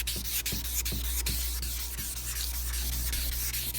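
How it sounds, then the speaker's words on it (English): Wet sanding of a 2004 Acura TSX headlight lens with 1000-grit paper, a close, steady rhythmic rubbing with repeated short scraping strokes over a constant low hum, no voices. "So lots of wet sanding,"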